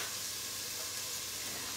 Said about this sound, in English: Oh yeah, nice sizzle.